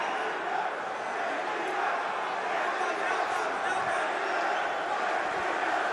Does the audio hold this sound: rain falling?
no